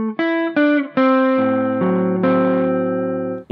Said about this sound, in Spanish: Un overdrive para solos.